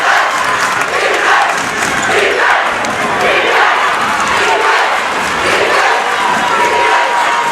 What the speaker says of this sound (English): The Deering crowd on its feet.